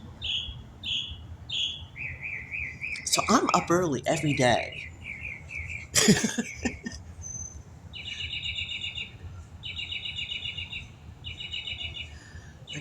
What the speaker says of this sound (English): I wanted you guys to hear this crazy ass bird.